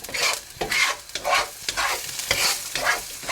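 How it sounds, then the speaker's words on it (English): Banana peel curry mixture being stirred in a pan, with a steady rhythm of about six scraping strokes over a soft, continuous sizzle, close and clear with no talking. "And stir all that together"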